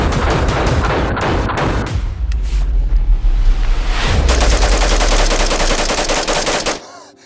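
Heavy automatic rifle fire from a CAR-15 lays down covering fire in a film battle scene, loud rapid bursts and booms coming close together and then cutting off abruptly.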